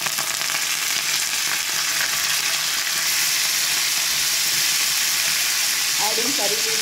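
Curry leaves and mustard seeds sizzle in hot oil while tempering for a South Indian coconut dal, giving a steady, close frying hiss with light crackles throughout.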